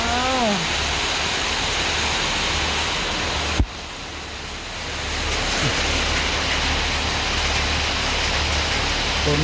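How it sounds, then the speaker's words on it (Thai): Heavy, steady rain pours down at a car repair garage, a dense continuous hiss filling the whole stretch with a brief sharp knock partway through, no voices over it. "ฝนตก"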